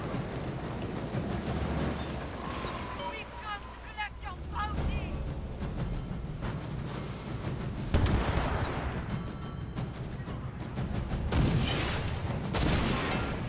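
Ship cannons firing in Skull and Bones, a naval pirate game: several heavy booms go off amid a busy battle din of water, creaking and game noise, with a voice talking over parts of it.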